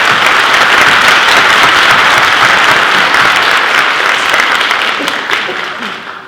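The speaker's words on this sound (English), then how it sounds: "Let's give them a round of applause" Enthusiastic applause fills a hall during a senior awards assembly, loud and dense crowd clapping throughout, tapering off toward the end.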